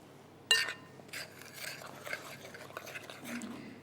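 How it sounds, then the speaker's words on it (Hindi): A spoon mixes flour into a dough in a bowl, giving soft scraping and clinking strokes that open with a sharper knock, quiet and close with no talking. "इसको जो है हम पहले चमचे की मदद से मिक्स करते हैं"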